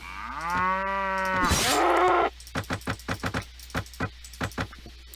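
Cattle in the video game Mount & Blade Warband give a long, drawn-out moo, followed by a rapid series of short clicking interface sounds.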